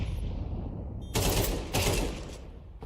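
Gunfire during a competitive video game match, including a headshot: two loud, broad blasts close together following a quieter stretch of game ambience, with no voices.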